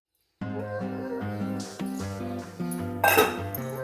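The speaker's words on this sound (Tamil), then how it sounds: "இதை நல்லா மிக்ஸ் பண்ணி விட்டுட்டு இறக்க வேண்டியதுதான்." A spoon scrapes and clinks against a metal pan as coriander thokku is mixed, close and fairly loud, with a steady hum underneath and a brighter clatter near the end.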